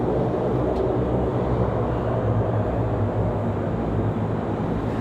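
ATR turboprop airliner at Raleigh-Durham airport, heard as a steady, loud broadband engine roar with a strong low rumble holding constant throughout, with no talk over it.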